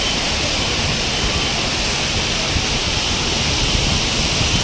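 Falling water at the Hathani Mata waterfall on a hill in Gujarat: a continuous, even roar of cascading water, loud and unbroken, with no voices.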